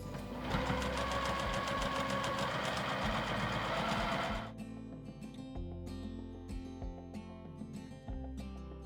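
A sewing machine stitches down the edge of a dress strap, running in a fast, steady mechanical chatter for several seconds before stopping, leaving quieter scattered clicks and handling noises.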